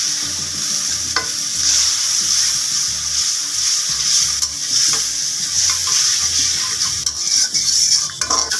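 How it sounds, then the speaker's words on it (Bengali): Hilsa fish and spices (coriander, turmeric and chili powder, salt) sizzle loudly in a pan with a little water. A utensil scrapes and stirs in a steady rhythm throughout, with no talk. "এবার সবগুলো পানি দিয়ে একটু কষিয়ে নেব"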